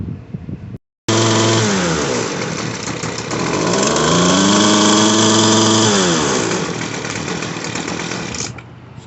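A Poulan Pro PR25 gas string trimmer's small two-stroke engine, with a carburetor needing adjustment, starts up and runs loudly, its pitch rising and falling as it revs partway without reaching full revs, then settles toward a steady idle.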